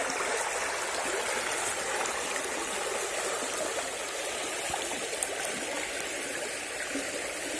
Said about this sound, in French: Cette eau, rien que cette eau là qui passe sur les herbes